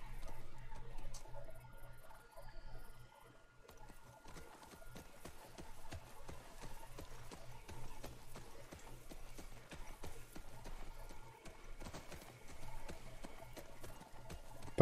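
Steady galloping hooves of a horse in The Last of Us 2 video game, a fast rhythmic clip-clop running throughout at moderate level under faint game ambience, with little talk.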